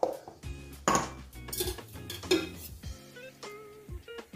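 A metal kadhai is set down on a home kitchen stove while paneer curry is being made, giving a few sharp clanks and scrapes of cookware, close and fairly loud, with no talking.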